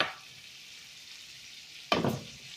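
Low hiss of fish frying in a pan, broken near the end by a sudden louder burst of sizzling as the fish shifts.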